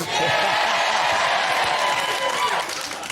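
Talk show studio audience applause and cheering mixed with the blare of a vuvuzela, a loud sustained horn drone over continuous clapping for about three seconds.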